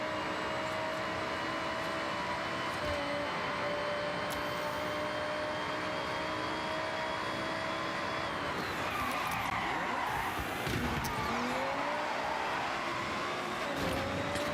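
A Lamborghini Centenario drives hard in Forza Horizon with its engine droning steadily, then its tyres break into a skid near the end amid rougher noise.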